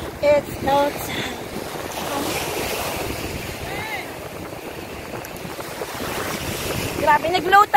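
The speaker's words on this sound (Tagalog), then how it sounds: "Pero napakalakas pa din ng alon." Strong ocean waves crash and wash steadily onto the beach at Nagbalayong, Morong Bataan, at low tide. The surf is loud and close, with wind buffeting the microphone and brief voices near the start and end.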